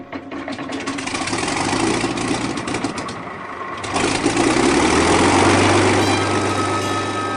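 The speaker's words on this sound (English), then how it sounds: "Fire up the starboard engine." A ship's starboard engine turns over and runs, a loud, dense mechanical rumble that dips briefly midway and then comes back heavier and steady.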